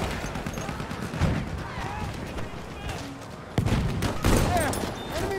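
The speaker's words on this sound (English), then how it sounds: "There! Enemy machine gun!" Machine-gun fire rattles in a World War I-style shooter battle at Achi Baba, bursts of rapid shots and distant explosions mixing with shouting voices in a loud, chaotic battlefield.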